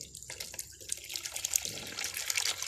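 Water pours steadily into a small plastic hydroponic container for growing salad greens, a close, continuous trickling and splashing with no talking.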